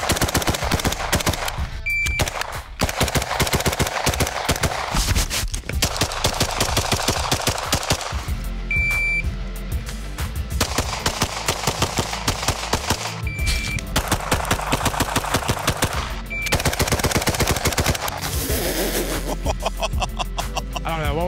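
Repeated bursts of AR-15 rifle fire during a shooting drill, loud strings of shots separated by short pauses, with brief voices and laughter in between.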